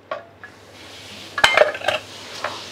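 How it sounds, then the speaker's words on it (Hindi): Metal clanks and clatters of a pressure cooker lid and pot being opened, a few sharp clinks close by, with a quiet background hum. "5 मिनट बाद हम कुकर को खोल लेंगे।"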